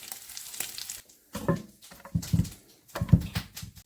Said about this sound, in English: just cook off the garlic a little bit